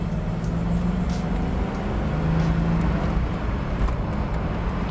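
A 1989 Ford Mustang 5.0 with a 5-speed manual pulling through a corner in second gear, its engine a steady, loud low drone with road noise and no voices, heard from inside the car.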